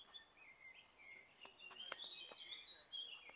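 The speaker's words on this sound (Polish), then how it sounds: "I ptaszki ładnie śpiewają." Small birds chirp and sing in short bright phrases at an open-air village museum in Pszczyna, Poland, faint and fairly distant over a quiet outdoor background.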